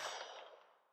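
A single bright metallic clang from a bullet striking a steel target downrange at a shooting range, ringing briefly with a sharp onset and fading tail, heard alone without talk.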